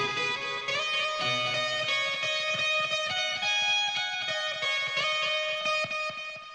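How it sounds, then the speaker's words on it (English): A distorted electric guitar plays a sustained, buzzing line with rich overtones and rhythmic picking, fairly quiet but clear, with no talking. "it sounds like that, which actually sounds like an electric guitar"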